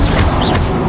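A Confringo blasting spell strikes its target in Hogwarts Legacy, a loud crashing impact with a heavy low thud and a smashing, rumbling tail that lasts just under a second.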